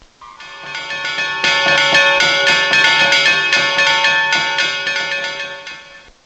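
Rapid, repeated festival bell strikes ringing out bright and loud, building to a steady clangor and then fading; a low drum-like pulse is only faintly present beneath the ringing.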